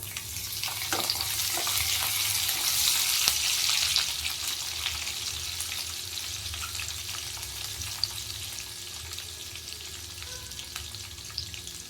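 Green chillies frying in hot oil in a pan while cooking a festival meal, giving a continuous close sizzle and crackle that is a little louder at first, with no talking.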